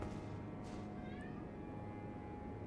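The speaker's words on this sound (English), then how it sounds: "My cat meowing." A pet cat meows faintly at a distance, a couple of short calls barely rising above a constant low hum.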